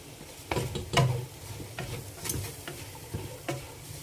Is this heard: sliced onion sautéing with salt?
yes